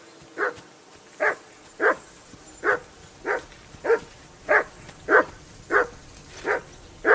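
A dog in the medieval Bohemian setting of Kingdom Come: Deliverance 2 barks about a dozen times in a steady rhythm, each bark sharp and close, with no talking underneath.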